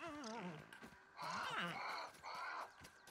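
A crow caws in the survival video game Grounded: a few harsh, drawn-out calls in quick succession, fairly close and clear, with a faint voice in the background.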